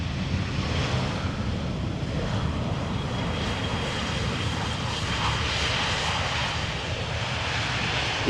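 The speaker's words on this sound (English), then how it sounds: "Easyjet A320 arriving from Manchester, foregoing the first exit." An Easyjet Airbus A320 from Manchester lands at Amsterdam Schiphol, likely on runway 18 Center, and rolls past the first exit. Its engines give a steady, loud, continuous roar with a windy rush and no talking.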